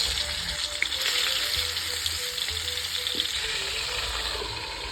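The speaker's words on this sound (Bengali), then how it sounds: "তেল গরম হয়ে গেছে, এবার পটলগুলো দিয়ে দেবো।" Pointed gourds sizzle in hot mustard oil in a village kitchen, a loud, continuous close frying crackle with a faint underlying hum and steady level throughout, no voices.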